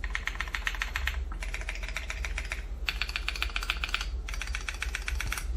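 Typing on a MonsGeek M1W mechanical keyboard comes in four quick bursts of crisp, rapid key clacks, close up, each burst separated by a short pause.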